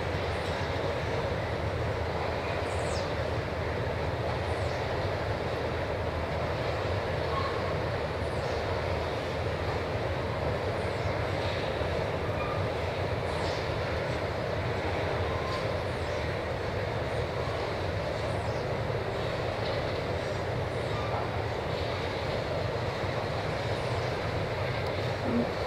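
Steady, distant rumble of a long train passing through farmland, droning on evenly for a long stretch with faint chirps above.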